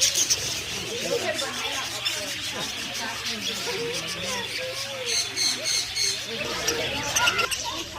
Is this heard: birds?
yes